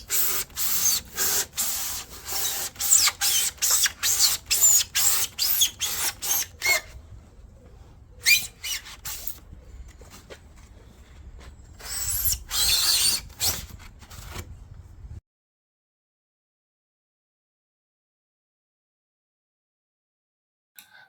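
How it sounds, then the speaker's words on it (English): A kebab knife slices through cured spray foam in quick repeated squeaky strokes, a rapid rhythmic rasping run, then a pause and a few more sporadic scraping cuts before silence; close, no talk. "So it's out with the kebab knife and let's make the first squeaky cut."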